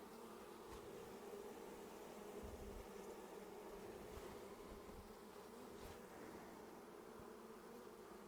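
Honey bees hum steadily around a queen cage in a freshly made hive split of mostly nurse bees, some fanning; a continuous close buzzing drone with faint passing whines, no voices.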